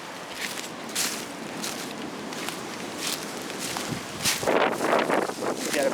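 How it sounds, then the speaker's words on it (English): Wind gusts through grass in a forest, a steady breathy rustle with a few louder swells and some crunching and rustling on top. "wind blowing that grass"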